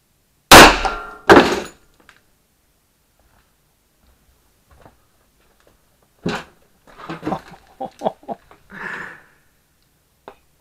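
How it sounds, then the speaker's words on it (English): Two sharp, loud Tokarev pistol shots hitting a homemade 18-layer Kevlar 29 armor plate outdoors, spaced under a second apart, then a pause before scattered clatter and movement noises. "it's 18 layers, and we're gonna shoot it with Tokarev"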